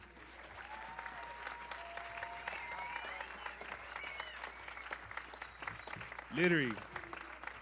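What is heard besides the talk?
audience applause at a film panel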